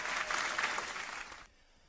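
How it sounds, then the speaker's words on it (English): A short burst of clapping and cheering that lasts over a second and then cuts off abruptly, leaving quiet room tone. "give yourself a round of applause"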